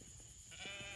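Sheep on a farm give a couple of short bleats, close by, over low background noise and rustling.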